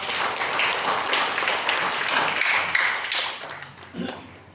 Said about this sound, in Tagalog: At isa pang malakas na palakpak.